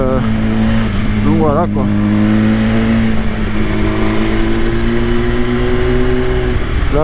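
A BMW S1000RR sport motorcycle, about 200 hp, ridden at a gentle pace, its engine droning steadily with a brief rise and fall in revs, under a rider's close spoken commentary and wind noise.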